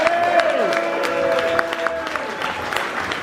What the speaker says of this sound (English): Would you please give a warm round of applause for the one and only John Lydon.